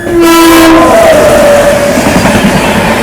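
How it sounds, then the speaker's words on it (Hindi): The Garib Rath Express passenger train runs near Gadarwara with a loud, close horn blast that slides downward, followed by the continuous roar and rumble of the moving train. "गाडरवाड़ा में हमारी ट्रेन जहाँ पे जा रही है"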